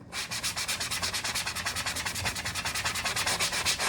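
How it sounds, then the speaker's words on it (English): Sandpaper rubs back and forth over an old leather barber's paddle strop in quick, even strokes, a close, rhythmic rasp with no talk. "So be careful you don't sand through the strop if it's an old one"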